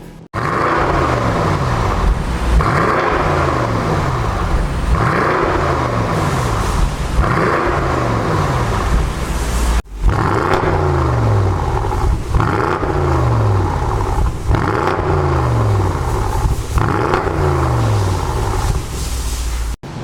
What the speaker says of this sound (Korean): M850i의 이 팔기통 아주 딱 듣기 좋은 배기음 아주 완벽하게 나옵니다